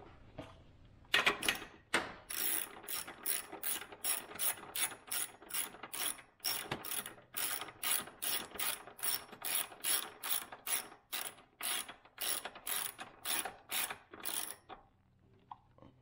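Ratchet wrench turning a small bolt on the power steering rack of a 2000 Acura 3.2 TL, a long run of rhythmic ratcheting strokes, each a quick burst of clicks, close but quiet.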